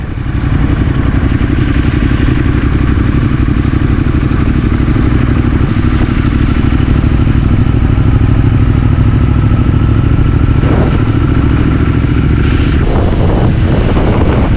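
A motorcycle engine drones steadily throughout, loud and close, with wind rush and a few rattling clatters near the end; no talking.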